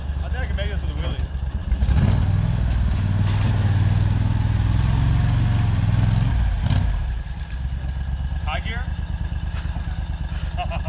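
A 2021 Argo Frontier 6x6 amphibious ATV engine drones loudly nearby, swelling as it revs under load and then settling back to a steady running note, with voices talking over it.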